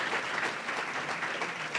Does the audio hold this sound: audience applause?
yes